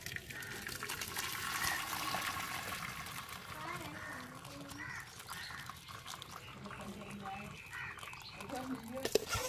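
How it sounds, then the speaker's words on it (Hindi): Tamarind and plum sharbat is strained through a sieve, giving a steady splashing trickle of liquid that runs for the whole stretch, with faint voices in the background. "आप कपड़े के साथ भी छान सकते हैं और छन्नी के साथ भी।"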